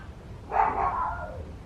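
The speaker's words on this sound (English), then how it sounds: "My dogs are barking" A dog barks from nearby in one sustained burst lasting about a second, then trails off under a low background hum.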